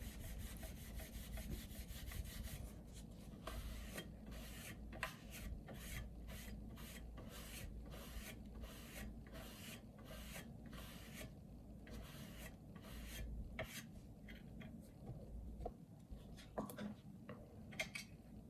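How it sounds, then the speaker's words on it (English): A sponge rubs over metal parts of a fat PS3 console during a yellow-light-of-death repair, giving steady rasping scrubs in a close, repetitive back-and-forth rhythm with no speech. "So we rub a little bit on a sponge and pass it on the metal that we want to recover."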